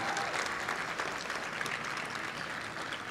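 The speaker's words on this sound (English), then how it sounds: "You want to give them another round of applause," Students and guests at a high school graduation ceremony applaud the teachers in a steady, fairly distant wash of clapping that continues evenly throughout.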